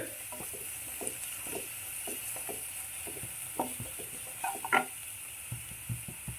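A sprig of curry leaves fries in hot oil alongside onion for dal palak, making a faint, steady sizzle with scattered small crackles and a sharper pop near the end, no speech.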